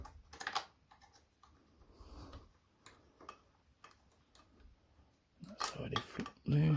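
Faint metallic clicks and ticks of Torx bolts being undone on a Honda CBR600F motorcycle ignition switch, scattered irregularly and close, ending in a louder handling clatter.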